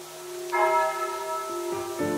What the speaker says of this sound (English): Listen to the beautiful church bells.